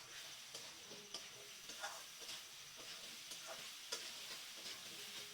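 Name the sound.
stirring potato and eggplant in a pan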